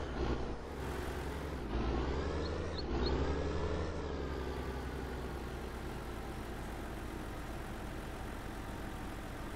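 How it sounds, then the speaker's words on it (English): A yard tractor engine idles in the Farming Simulator 19 video game, a steady mechanical drone with a couple of brief revving swells early on before settling into an even hum. "And jump into the yard tractor here."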